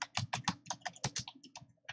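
Rapid clacking keystrokes on a computer keyboard as a terminal command is typed, close and crisp, a quick uneven run of about twenty taps over two seconds with no talk.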